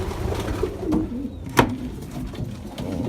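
Racing pigeons coo softly in a loft among 45 birds, with low murmuring calls under faint rustling and one sharp knock midway.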